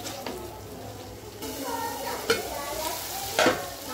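Spice masala with a spoonful of sugar being stir-fried in a pan for chicken curry, a steady sizzle with scraping stirs, louder spatula strokes near the end.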